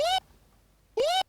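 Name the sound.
reversed, chopped Kambata shout sample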